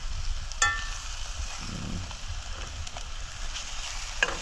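An egg frying in a pot during Jamaican home cooking gives a steady, faint sizzle with a couple of light clinks.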